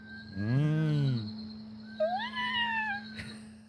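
Curlews give long, rising-and-falling wailing calls, one low drawn-out whoop followed by higher bubbling upward-sliding cries, close and fairly loud over a steady background hum.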